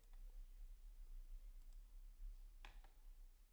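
Computer mouse clicks, a couple of faint, crisp clicks with a louder double click near the end, over a low steady hum in a quiet room.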